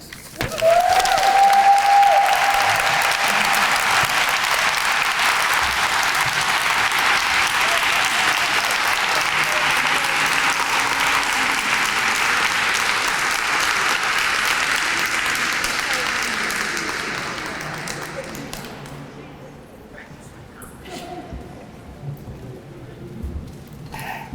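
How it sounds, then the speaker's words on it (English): Audience applause at a breast cancer awareness luncheon, a loud, dense roar of clapping from a large crowd that holds for about fifteen seconds, then fades to scattered claps, with a brief voice near the start. "Can we give her another round of applause?"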